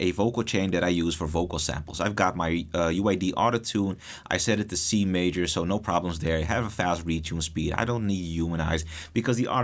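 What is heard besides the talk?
No everyday noises stand out.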